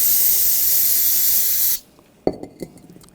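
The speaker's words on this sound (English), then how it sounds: "Use a little brake parts cleaner" Brake parts cleaner sprays in a steady, loud aerosol hiss onto the caliper pins of a 2007-2013 BMW X5 for close to two seconds, then cuts off abruptly, followed by a few faint knocks and clicks.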